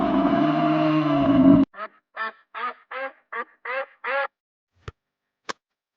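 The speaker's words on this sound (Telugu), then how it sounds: "ఇవి బాతులు." Farm ducks give a run of about eight loud, close, evenly spaced quacks after a burst of broad noise, followed by two sharp clicks and silence; no one talks.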